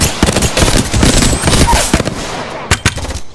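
Spitfire light machine gun firing in the video game Apex Legends, rapid loud bursts of automatic fire with short pauses between volleys and a couple of separate close shots near the end.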